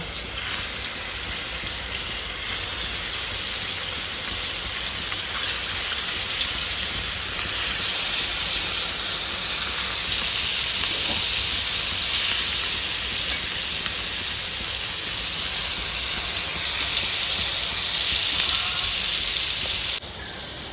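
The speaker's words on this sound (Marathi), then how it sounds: "चलो गॉईस आता मी टाकते याच्यामध्ये मस्त मच्छी फ्राय" Fish frying in a pan: a loud, steady hiss and crackle of oil that holds for about twenty seconds, then drops off sharply at the end.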